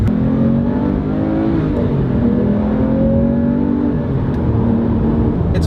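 A Porsche 911R engine pulls hard under acceleration while driving, a loud, close, sustained rasp whose pitch climbs steadily and dips briefly at gear changes, with no voices over it.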